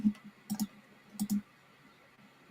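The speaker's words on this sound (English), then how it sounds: "Am I clicking the wrong thing here?" A computer mouse clicks in two quick double-click pairs, soft and close, separated by a pause in an otherwise quiet room.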